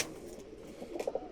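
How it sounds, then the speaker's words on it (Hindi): A rooftop Chalgoti pigeon coos softly, a few low rounded notes clustered near the end over quiet background hiss. "और छत वाला कबूतर है जी, ओरिजिनल चालगोटी"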